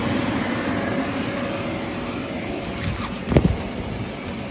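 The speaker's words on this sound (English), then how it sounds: "we got both fans pumping" Two fans run inside an inflatable portable paint booth, producing a steady, broad whooshing drone throughout, with a brief clunk near the end.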